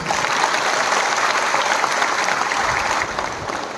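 Crowd at a BJP political gathering claps in steady, dense applause, loud and sustained for several seconds, then eases slightly near the end with no voices on top.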